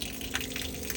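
Water flows from the faucet at the base of a water tank on a 2020 Ram 2500 Power Wagon overlanding truck, a brief, quiet, steady stream with no one talking.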